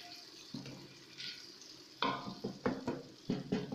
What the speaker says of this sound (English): we're going to put in our tomato sauce and give it a good stir.